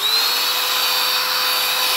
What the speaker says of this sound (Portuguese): E é por isso que eu tô usando esse soprador.